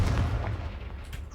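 A Confringo fire spell bursts in Hogwarts Legacy, a loud, booming blast with a deep low rumble that sustains and slowly tails off over about a second and a half, with no voices over it.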